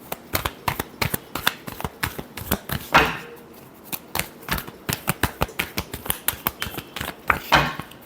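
Tarot cards being shuffled close up: a quick, steady run of crisp riffling snaps and slaps that goes on without pause, with no talking.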